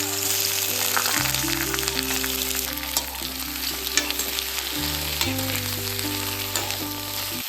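Tempering spices sizzle and crackle steadily in hot oil, a continuous close frying hiss with faint tonal hum in the background.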